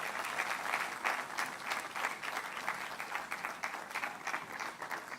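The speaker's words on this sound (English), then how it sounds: "An incisive presentation such as that deserves a better round of applause, please." An audience applauds after a ministerial presentation of the 2023 national budget, a moderate, steady clapping from a seated crowd with slight surges, no voices over it.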